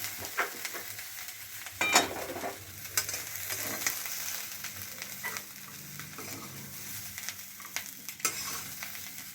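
Prawns shallow-frying in a pan until reddish, a steady low sizzle with occasional sharp clinks and scrapes of stirring, fairly quiet and close with no talking.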